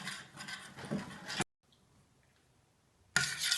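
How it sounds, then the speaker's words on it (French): A spoon stirs teff batter mixed with hot water in a pot, giving a soft, scraping, rubbing swirl that runs for over a second, falls silent, then starts again. "Et on remue bien."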